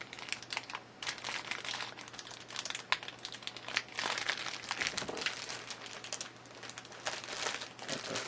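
Plastic packaging crinkles and crackles continuously, close and fairly loud, as it is pulled off a Figma Saber Armor version anime figure from Fate/Stay Night, with small tearing sounds and no talk.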